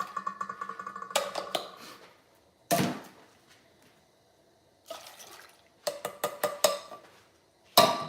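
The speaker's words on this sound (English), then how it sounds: "Two cans of green beans, and we're going to put those right into this pot here." Two cans of green beans tumble into a cooking pot in several separate bursts, each a sharp clattering slosh of beans and liquid hitting metal, with quiet gaps between and a final loud splash near the end.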